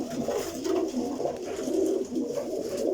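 Rare black-faced pigeons of a champion breed coo repeatedly in their loft, soft throaty rolling calls overlapping in a steady rhythm, close and clear with no talking.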